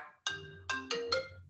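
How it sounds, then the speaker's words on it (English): A phone rings with an incoming call: an electronic ringtone of short, bright tonal bursts in an irregular pattern, fairly clear and alone. "Excuse me, I got a phone call."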